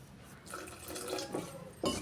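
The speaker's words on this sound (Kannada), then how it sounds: "ಇದಕ್ಕೆ ಇನ್ನೊಂದು ಸ್ವಲ್ಪ ನೀರು ಹಾಕ್ಕೊಂಡ್ರಿ" Water poured into thick dosa batter in a home kitchen, a steady soft splashing trickle that swells briefly at the end, close and alone without talk.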